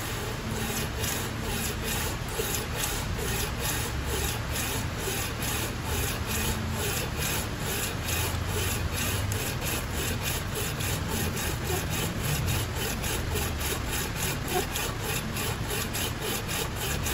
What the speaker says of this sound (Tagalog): So ito na nga mga boss, na pangalawang pasada na sa liha